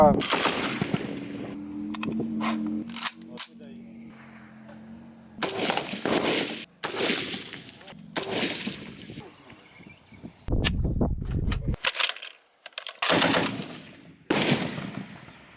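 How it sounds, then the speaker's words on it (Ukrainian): Military live-fire training with a Browning heavy machine gun, an MK-19 automatic grenade launcher and a DShK, heard as repeated loud bursts of rapid automatic fire and heavy booms with pauses between volleys, while voices speak faintly at times. "Сьогодні проводимо безпосередньо стрільби з групової зброї."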